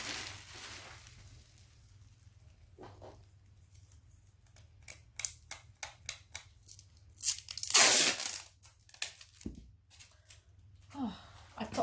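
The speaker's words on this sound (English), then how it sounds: "And then obviously tape that up." Packing tape is ripped off the roll and pressed around a parcel holding heavy vintage bongo drums, a run of sharp tearing and crackling strips, close up, building to one loud long rip before quieter handling.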